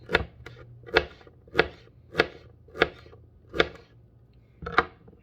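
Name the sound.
chopping celery stalks with a knife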